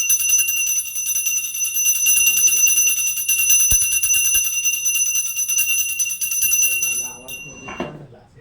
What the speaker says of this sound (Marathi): आता आपल्याला हा दिवा घेऊन घंटी वाजायची आहे